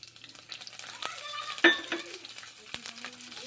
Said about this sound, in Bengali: রসুন ভেজে নিচ্ছি